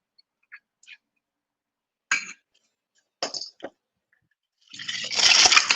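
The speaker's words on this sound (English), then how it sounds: "Just gonna rinse this out real quickly just so I can taste the beer appropriately." Water splashes and runs into a glass as it is quickly rinsed at a cocktail bar before a beer tasting, a short, fairly loud gush near the end after a few faint clinks and handling sounds, with no talk.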